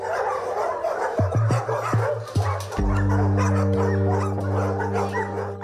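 Two dogs that attacked a cyclist bark and yip repeatedly, close and loud, with a sustained whine or whimper and some background noise underneath.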